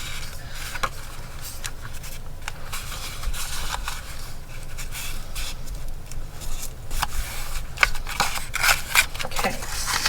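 Scissors snipping through paper during a summer camp craft project, quick irregular crisp cuts and rustling paper close by, with quiet speech now and then.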